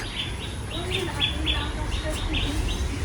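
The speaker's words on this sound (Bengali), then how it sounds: "এখানে একটা পায়রা ছানা এই দেখো বাইরের বাচ্চা এই ওপর থেকে পড়ে গেছে" A pigeon chick fallen from its nest chirps in short, repeated high peeps at a steady rhythm over a constant low background hum.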